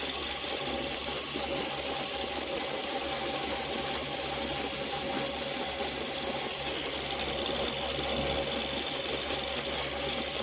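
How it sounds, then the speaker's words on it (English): An Oliver Super 77 tractor with a Waukesha engine runs steadily while plowing a food plot, a loud continuous mid-pitched engine drone with a rough, slightly knocking rhythm and no talk. "These Waukesha engines are really nice."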